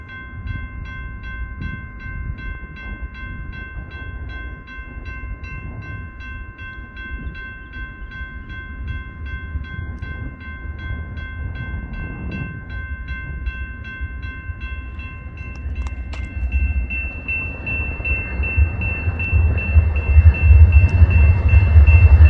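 An eastbound freight train in Kansas City sounds a sustained horn, then its deep rumble builds and grows louder as it approaches and passes nearby.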